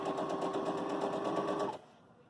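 A Baby Lock Jubilant sewing machine runs a rapid, steady burst of back-tacking stitches close by for under two seconds, then stops abruptly into quiet.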